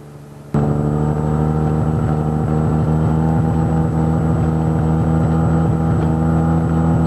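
A small airplane taxis back toward its hangar after a winter flight, its engine droning steadily and loud throughout after a sharp start, with a constant low harmonic hum and no voices.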